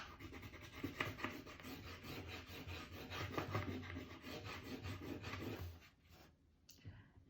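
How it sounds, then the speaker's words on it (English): Crayon rubbing on paper over a textured surface for a hamburger collage makes a steady, faint, close scratchy rasp with rhythmic back-and-forth strokes that fade out near the end. "add some texture by doing a little texture rubbing."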